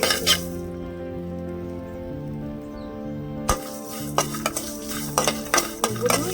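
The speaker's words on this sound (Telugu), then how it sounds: "ఎండుమిర్చి, పల్లీలు వేగాయండి" Peanuts and dried red chillies dry roast in a pan, stirred with repeated scraping clatters and rattling clicks that come in bursts over a constant low hum.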